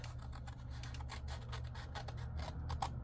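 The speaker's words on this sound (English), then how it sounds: "Cut along the score line" Scissors snip through paper along a score line in a quick series of close, crisp cuts over a low steady hum, quiet and with no voices.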